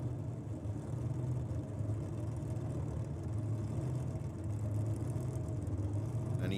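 A 290 cubic inch Chevy engine in a clutch drag car revs at a nitro drag racing meet, a loud, steady, low mechanical roar that holds throughout with no talk.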